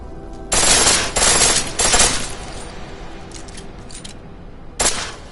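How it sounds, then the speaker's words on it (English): A pistol fires on full auto in Deus Ex, three loud rapid bursts of gunfire in quick succession, a quieter lull, then one more short burst near the end. "The pistol in full auto will take down targets fast, but it'll burn through your hands."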